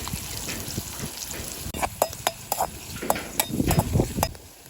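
Oil crackles and sizzles in a pan as curry leaves and green chilli are tempered, with a utensil stirring and sharp spattering pops scattered irregularly over a steady frying hiss.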